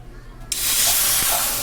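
Water poured into a kadhai to boil for Maggi noodles, a sudden loud rushing splash that starts partway through and continues steadily, following a quiet start.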